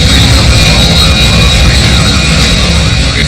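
A damaged military jet in flight after a collision gives a loud, continuous engine roar that fills the clip, with no voices heard.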